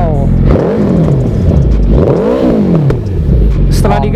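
Suzuki Hayabusa 1340cc DOHC inline-four fitted with a Brox exhaust, revving loudly up and down in two rising and falling sweeps, close by, with voices talking over it.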